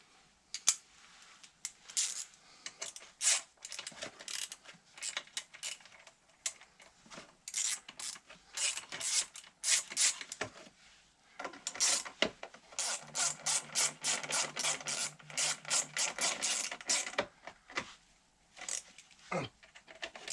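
Screws on the rear wheel of an MP3 500 scooter tightened with a ratchet: long runs of rapid, close, crisp clicking, sometimes in fast steady bursts, with brief pauses and light metallic handling sounds between them.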